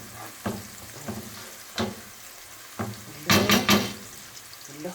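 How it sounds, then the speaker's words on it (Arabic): Potatoes, tomato and onion being turned over in a pan for an Egyptian potato tray bake, giving several separate scraping stirs and then a louder burst of shuffling clatter near the end, close up with no talking. "حطي قوطه حطي بصل وشقلب كل حاجه على بعضها كده اهو"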